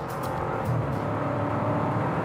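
A tuned car engine, one of a Manhart MH3, PP Performance CLS 63 AMG or HGP Golf 6, pulls at full throttle with a steady, rising drone heard from inside the cabin.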